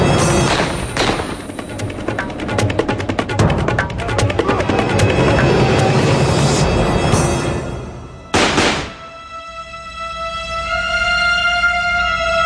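Rapid bursts of gunfire crackle continuously, with a loud final shot before the noise drops away, leaving a ringing tone.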